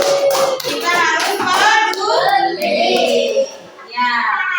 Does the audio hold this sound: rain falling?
no